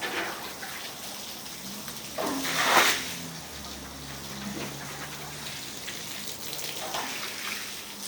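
Water runs and gushes at a carpet washing centre, a steady wet wash swelling into a louder splash burst near the middle before settling back to a constant flow.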